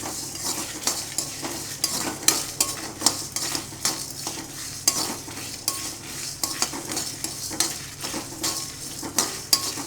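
Spices dry-roasting in a pan for Srirangam-style pulikuzhambu, a spoon scraping and stirring in steady repeated strokes with soft sizzling underneath, close and moderately loud with no talk.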